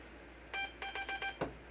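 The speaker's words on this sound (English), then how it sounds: "we have the startup beeping, if you want to call it that, from the keyboard." A DEC VT101 terminal keyboard gives its startup beeping: a short run of quick electronic beeps, then a final chirp, fairly faint over a steady background hum.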